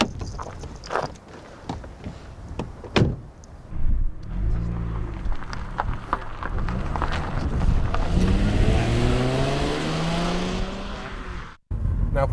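An Audi A4 Avant with a 2.8 litre V6 engine drives, starting with footsteps and a door. The engine then starts and accelerates in a rising, steady tone until the sound cuts out abruptly near the end.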